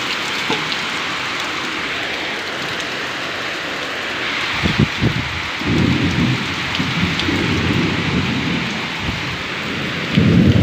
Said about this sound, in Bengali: বাবা বাজ পড়ছে, ভিজিস না, চলে আয়